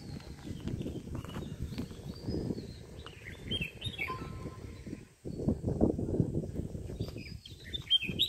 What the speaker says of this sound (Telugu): పక్షుల సౌండ్ వినపడుతుందా?